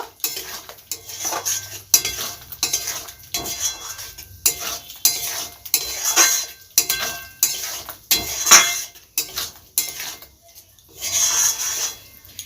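Mushrooms stirred with spices in a pan, the spoon scraping and clinking against the metal in an irregular rhythm, with faint sizzling underneath, close and fairly loud.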